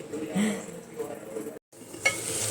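Ground onion paste cooks in a clay pot with a muffled stir and low sizzle, then a brief silent break and a sudden brighter hiss as cooking resumes.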